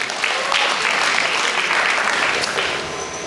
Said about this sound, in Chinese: 再掌声给我们徐仲文。